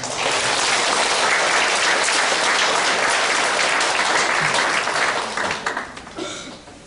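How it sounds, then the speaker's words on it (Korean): A church congregation applauds to welcome a priest, a dense, loud burst of clapping that holds steady for several seconds before thinning out and fading. "박수로 맞아주시기 바랍니다."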